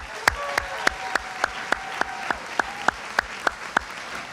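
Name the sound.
audience applause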